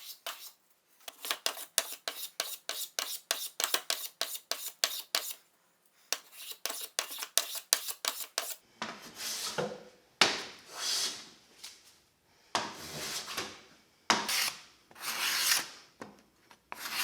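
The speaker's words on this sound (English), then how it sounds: "I'm going to do that with a combination of a block plane, a hand plane, maybe a card scraper" A block plane, hand plane and card scraper work over a wooden dovetail box to bring it flush. Crisp rhythmic strokes come first in two quick runs, then longer, breathier scraping passes with short pauses between them.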